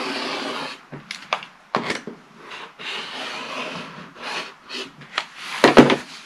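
A rotary cutter trims a quilt block of fabric strips along a ruler on a cutting mat, giving repeated short scraping and rubbing strokes with brief pauses between them, close and clear.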